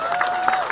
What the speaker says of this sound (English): big round of applause to Walt